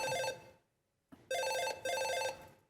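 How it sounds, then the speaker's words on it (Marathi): A mobile phone ringtone plays loudly in bursts, a brief electronic tune that cuts off, pauses, then restarts and repeats twice, with no one talking over it. "काय रिंगटोन ठेवले ही फोनची"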